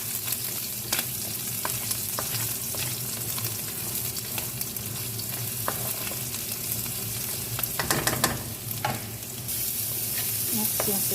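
Garlic fries in a pan for pansit canton, giving a steady hiss of sizzling oil with repeated scraping stir strokes and occasional clinks of the utensil, close and continuous.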